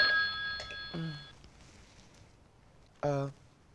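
A telephone rings indoors in two short, bright bursts, one at the start and a second after a quiet gap, with no other sound around it.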